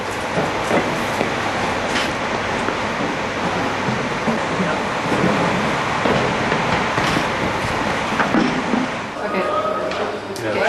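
The Space Mountain roller coaster train at Disneyland Paris rumbles and rattles past nearby, a continuous loud clattering roar with wheel clacks and crowd noise mixed in.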